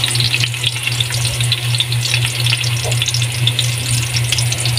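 Garlic sizzling steadily in a hot pan for a breakfast chayote and corned beef soup, a continuous close crackle and hiss with a low hum underneath and no talking.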